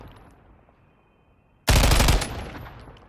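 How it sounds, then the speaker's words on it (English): FN HAMR IAR firing a fast closed-bolt automatic burst in Call of Duty Modern Warfare III: a loud, sudden rapid stream of shots lasting about half a second, then a ringing tail fading away. "let's look at the first 6 to 8 rounds with that faster rate of fire with the closed bolt"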